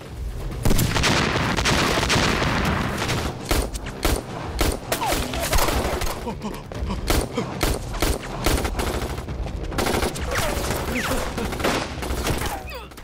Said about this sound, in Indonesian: aksi baku tembak yang terjadi